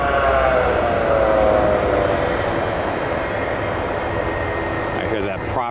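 Steady, loud roar of jet engines running up at Tampa International Airport, a dense continuous rumble with a faint high whine, sustained throughout without letting up.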